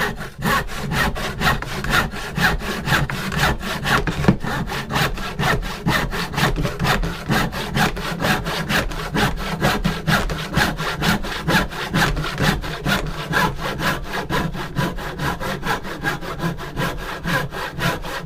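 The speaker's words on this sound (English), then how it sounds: "No weight on the saw now." A hand saw cuts steadily through oak in long, rhythmic back-and-forth strokes, close and loud, with no voices.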